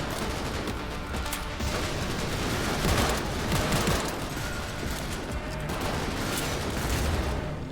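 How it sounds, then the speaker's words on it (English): Heavy gunfire in the Cyberpunk 2077 video game: sustained automatic fire and overlapping shots in a loud, dense firefight that continues unbroken for several seconds. "Shooting down there."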